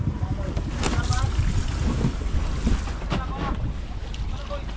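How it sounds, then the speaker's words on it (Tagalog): A boat's engine drones steadily under heavy wind buffeting and wash of water, with voices talking faintly over it at sea. "Tunog na yun ang ating makina."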